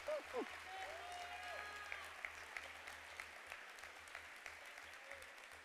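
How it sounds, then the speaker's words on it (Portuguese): Congregation applauding during a church sermon, steady dense clapping with a brief spoken exclamation at the start, sustained at moderate level throughout. "Eu posso pedir para que você aplauda ao Senhor?"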